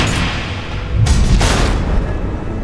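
A missile blast in Batman: The Enemy Within, a deep, loud boom that swells for about a second over a dull low rumble, with no talking over it.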